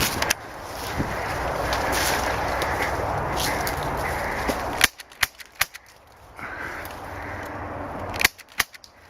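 Airsoft guns firing outdoors at Graffiti Pier: a run of sharp, snappy cracks arrives in quick succession after a stretch of steady windy rumble, fairly close and loud against the background.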